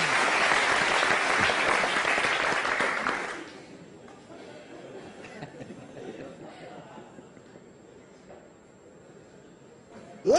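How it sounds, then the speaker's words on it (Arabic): An audience at a comedy show applauds the projects, strong clapping for about three seconds that then drops away to quiet murmuring and scattered chuckles. "تصفيق على المشاريع"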